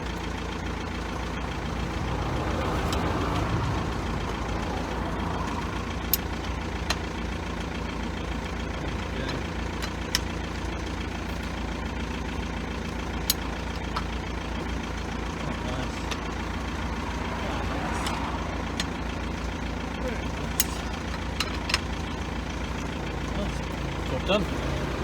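A BMW X3 E83 engine idles steadily after a wheel and ABS reluctor ring repair, a continuous low rumble that stays close and fairly loud throughout with a few faint clicks on top.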